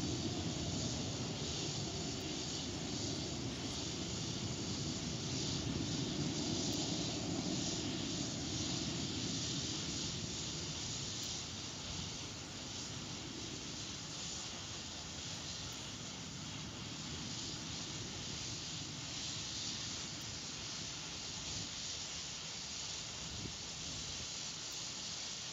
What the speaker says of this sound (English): Rocket has cleared the island.